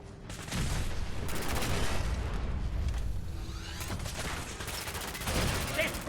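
Rapid gunfire from a robot fight in the video game Fallout 4, with repeated bursts and volleys running loud and steady through most of the stretch, and a few deeper booming hits mixed in.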